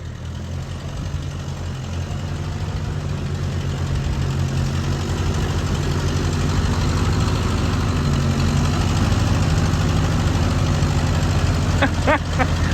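A Ford half-track's engine drones steadily as it drives and spins through swamp mud, a continuous loud low rumble with a few clanks near the end.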